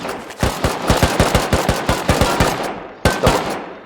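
Rapid semi-automatic rifle fire in the survival game Rust, a loud, steady string of about a dozen close shots, a brief gap, then one or two more shots.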